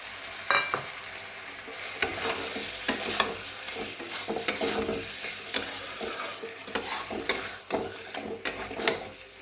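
Pointed gourd (potol) with poppy seed is stirred and fried in a pan, with a steady sizzle broken by irregular scrapes and clacks of the spatula, close by and with no talk.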